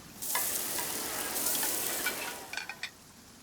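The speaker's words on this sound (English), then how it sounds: "Let's head back to land and grill them." Fresh-caught fish sizzle on a grill in the Genshin Impact game, a steady close hiss with a few clinking taps near the end; no talking.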